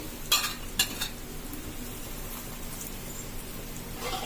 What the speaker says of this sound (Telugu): దీంట్లో నూనె ఈ రంధ్రాలలో నూనె వేసుకోవాలి